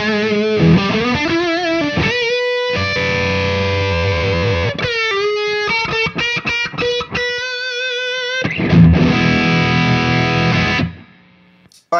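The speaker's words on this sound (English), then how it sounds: "that is with all of these boosts going into a distortion" An electric guitar runs through stacked boost pedals into an OCD distortion pedal, giving loud, heavily distorted chords and riffs with brief gaps, before ringing out and cutting off near the end.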